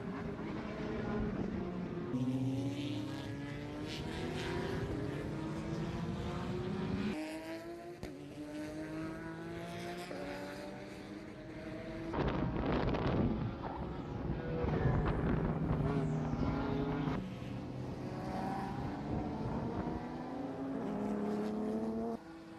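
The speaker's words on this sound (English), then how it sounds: "More cars making their way out of the paddock" Prototype race cars circling a track at the Miami Grand Prix, a continuous roar of engines with overlapping rising and falling pitches as several cars pass, steady and loud throughout.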